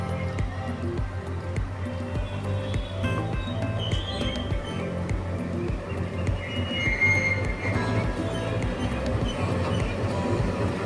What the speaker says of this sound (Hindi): ये आप देख रहे हैं पुष्पक लोकोमोटिव गाज़ियाबाद शेड का, जो कि अम्बाला पटियाला पैसेंजर को शंट करने के लिए ऑपोजिट साइड से आ रहा है